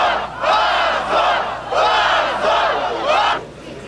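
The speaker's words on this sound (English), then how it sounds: "cheering crowds sensed the changing atmosphere" A large crowd cheering and shouting outside the Russian parliament in Moscow in 1991, loud waves of massed voices rising and falling in several surges.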